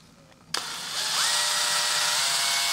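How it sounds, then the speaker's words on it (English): A power drill spins up a chucked screw against sandpaper cushioned by a rag to clean a vintage .22 rifle part, giving a sharp click, then a steady rising whine that holds, close and fairly loud. "I take the screw and chuck it up in my drill"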